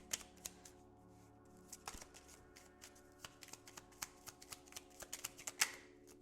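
Tarot cards are shuffled and pulled in a quiet room: soft, rapid riffling and flicking, with irregular sharp card snaps and taps spread throughout, close-up and fairly faint.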